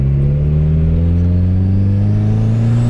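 Orange turbocharged Golf with 300 hp accelerating hard on a street, its engine note climbing steadily with loud, close mid-range drone and rising harmonics throughout.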